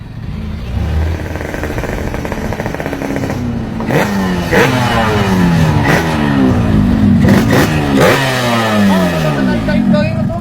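A motorcycle engine revving repeatedly nearby, the pitch climbing and falling through several throttle bursts, loud and close.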